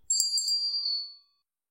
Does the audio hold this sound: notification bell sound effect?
yes